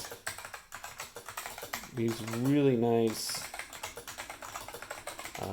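Fast clattering keystrokes on a Dell AT101 keyboard with Black Alps switches, close and continuous, heard under someone talking throughout.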